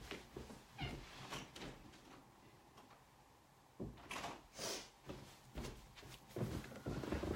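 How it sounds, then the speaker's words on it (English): A house cat meows at a door indoors, giving several short, faint meows spaced irregularly over a few seconds, with soft rustling between them and no talking. "My cat is meowing at the door."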